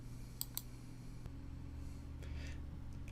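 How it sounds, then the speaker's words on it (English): Two sharp, quiet computer mouse clicks close together near the start, then a fainter click later over a steady low electrical hum. "I'm going to left click on the Add Global Footer here."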